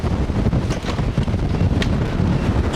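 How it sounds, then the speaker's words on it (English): Strong wind buffeting the microphone in loud, uneven gusts, a rough roaring rush with no voices. "Oh my god, it's windy."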